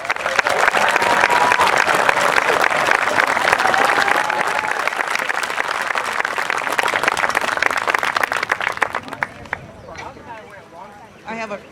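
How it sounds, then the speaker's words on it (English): Crowd applause rings out at an outdoor eighth-grade middle school promotion ceremony, loud and dense clapping that gradually thins out, with voices and a few cheers breaking through as it fades. "Let us please give them another round of applause."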